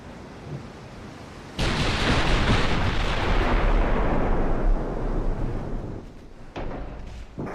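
Naval gunfire from warships in Ultimate Admiral: Dreadnoughts, a Japanese Empire 1890 battle: a sudden heavy blast swells into a loud, sustained rumbling roar that slowly fades, then a second burst erupts near the end.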